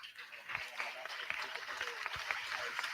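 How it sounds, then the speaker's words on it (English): A football crowd at a National League match between Gateshead FC and Tamworth FC applauds Dom Telford as he leaves the pitch. The clapping is a steady, broad wash from across the stadium, held at an even level for the whole stretch. "As Dom Telford leaves the pitch to a round of applause"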